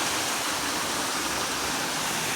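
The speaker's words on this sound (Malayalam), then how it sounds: "അടുത്തൊരു വെള്ളച്ചാട്ടം ഇതിൻ്റെ തൊട്ടടുത്തായിട്ട് കാണുന്നു." A small waterfall at Matharikundu, Karuvarakundu, carries little water outside the heavy rainy season and makes a continuous, even rushing and splashing that fills the scene with no voices.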